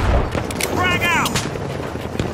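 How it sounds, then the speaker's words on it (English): A frag grenade in The Finals goes off with a loud boom at the start, followed by gunfire cracks and game chatter as a voice speaks over the action. "Frag grenade out!"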